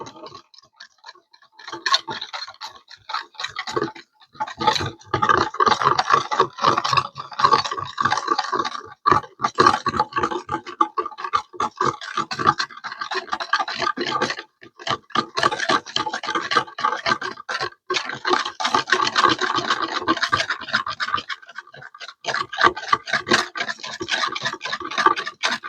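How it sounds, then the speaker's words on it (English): A whisk beats a sauce for a crockpot pork dish, with rapid, continuous metallic scraping and ticking against the bowl, up close and with no talk. "I'm whisking it just to get all the lumps out."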